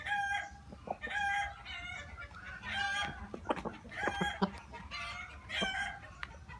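A rooster with four hens in a flock gives repeated clucks and drawn-out crowing calls in uneven bursts, near and clear against a quiet farmyard background, with no talking.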